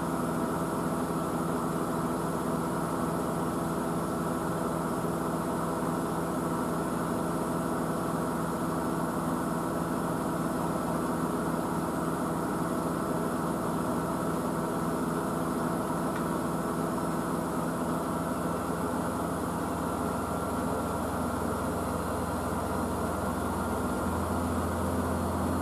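A Blomberg WNF9448 washing machine running its spin at 400 RPM on a coloureds fast full-load 40 cycle, a steady continuous motor drone and hum with a faint rumble, unchanging and fairly close throughout.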